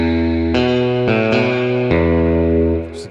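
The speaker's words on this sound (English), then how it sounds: "we've got the spring reverb" A sampled guitar from a desolate guitar library rings out through spring reverb, with a few sustained chords struck one after another, each swelling and lingering before a final fade.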